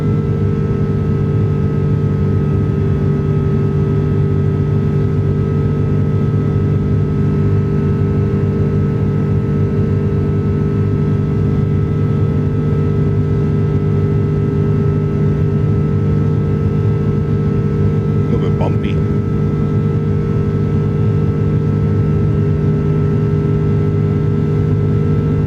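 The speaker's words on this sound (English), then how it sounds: "These are the Rolls-Royce engines." Rolls-Royce engines on an iniBuilds A330 airliner in Microsoft Flight Simulator 2024 drone loudly and steadily during the climb, a constant roar with sustained tonal hums and one brief click partway through.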